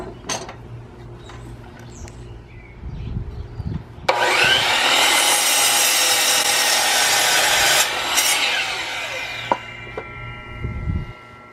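Power saw cutting a wood board held against the fence for a coffee table build, a loud, sustained whining rasp lasting several seconds, preceded and followed by quieter handling and knocks nearby.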